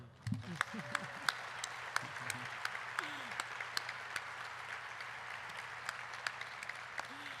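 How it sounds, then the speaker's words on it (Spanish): Steady applause from an audience at a journalism award ceremony, a continuous patter of clapping that carries on evenly throughout, moderately loud. "quisiera que nos recibiéramos con un aplauso"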